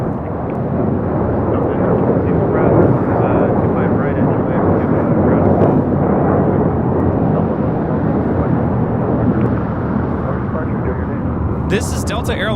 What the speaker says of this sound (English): This is Delta Airlines 1112 taking off to New Orleans, 737-900 ER.